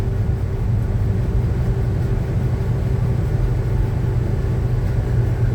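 A 1966 Chevy C10 pickup truck's engine runs steadily at low speed while driving, a constant close, deep rumble with no breaks and no other prominent sounds.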